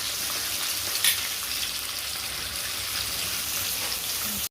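Onions and curry leaves sauté in hot oil for a village-style spicy chicken curry, a steady close sizzle with a brief louder crackle near the start and no talking.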